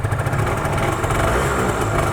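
A 250cc two-stroke V-twin sportbike engine running at a steady, close idle, a continuous buzzy drone with no pauses and no voices.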